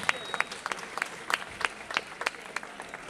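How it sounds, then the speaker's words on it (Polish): Applause at a football club's squad presentation, Polonia Warsaw's 2010/2011 season, heard as a moderate spread of crowd clapping with scattered louder hand claps throughout. "Duże brawa."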